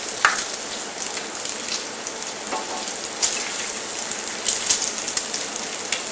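Bacon fries in a pan, sizzling and crackling continuously at close range with scattered sharp pops, and no voices.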